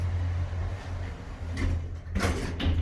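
An Otis hydraulic elevator door, modernized by Delaware, in a condominium parking garage slides shut with a soft rolling rumble over a steady low machine hum, then a louder thud-like impact as it closes.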